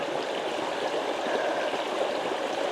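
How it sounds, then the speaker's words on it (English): Water running steadily in a stream beside McWilliams Reservoir at Weiser State Park, a continuous close rushing babble with no talk over it. "Priya heard the water running."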